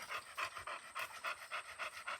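Dogs at a dog camp pant quickly and rhythmically, about nine or ten quick breaths in a steady pulse, close and fairly soft, with no voices.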